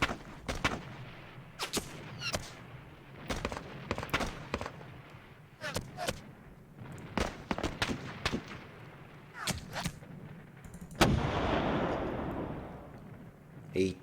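Artillery fire from the Panzer Campaigns: Smolensk '41 wargame, with sharp synthetic booms and cracks repeating irregularly through the stretch and a heavier rumbling blast near the end.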